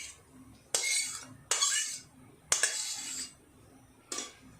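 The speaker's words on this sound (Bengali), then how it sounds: "কড়াটা পরিষ্কার করে নিই।" A metal utensil scrapes and clatters against a karai cooking pan as it is cleaned, several separate sharp scraping strokes with short pauses between them, close up and with no talk.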